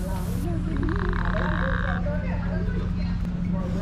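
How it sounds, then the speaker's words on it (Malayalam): Frogs croak at a desert camping site in the UAE, a rapid rattling call rising over a low steady hum in the first half, with fainter background croaks continuing afterward and no talk. "തവള വിളിക്കുന്ന സൗണ്ട് കേട്ടോ"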